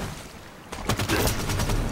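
Gunfire in the Halo 5 video game starts after a quiet moment, a dense burst of rapid shots rattling loud and close and continuing steadily to the end.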